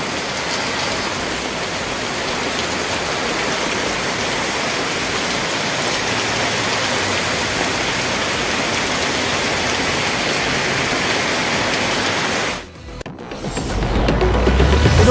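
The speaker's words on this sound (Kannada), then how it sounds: "ಈಗಲೂ ಕೂಡ ಇನ್ನು ಮಳೆ ಅಲ್ಲಲಿ ಆಯಾ ನಗರದಲ್ಲಿ ಸಣ್ಣದಾಗಿ ಬರ್ತಾ ಇದೆ" Rain falls on the streets of Bangalore as a dense, steady hiss of broadband noise that continues evenly for about twelve seconds, then briefly dips before returning louder and rougher.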